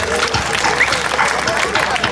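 An audience applauds at a gathering, a dense, continuous burst of clapping and crowd noise, loud and close, with murmuring voices mixed in.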